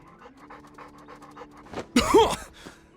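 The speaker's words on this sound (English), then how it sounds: "Oh, here's the doggy." A dog pants in the game Trails Beyond the Horizon, a quick rhythmic run of short breathy huffs over a low steady hum, followed by a louder, harsher burst near the end.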